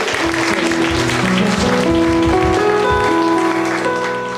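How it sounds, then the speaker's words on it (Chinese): A congregation claps together during a Mandarin-language Sunday church service, a loud, even burst of applause over sustained instrumental tones from the worship music. "我们再次拍掌，把荣耀归给耶稣"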